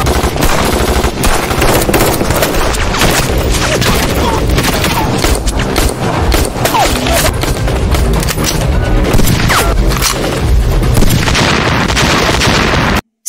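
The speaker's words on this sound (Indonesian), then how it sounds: "Saat transaksi sedang berlangsung, terjadilah kesalahpahaman di antara mereka, sehingga Mei terpaksa melepaskan tembakannya." Loud, dense gunfire from an action film sniper shootout, with sustained automatic bursts and booming shots filling the whole stretch, and a few voices under the barrage.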